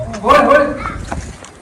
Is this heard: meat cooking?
no